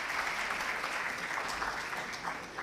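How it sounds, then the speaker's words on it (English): A convention audience at a leadership session claps in a soft, sustained round of applause that carries evenly from a distance, fading slightly at the end. "Can we have a round of applause, please?"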